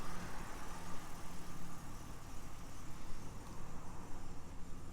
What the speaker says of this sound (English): A very pleasing burble to the exhaust note.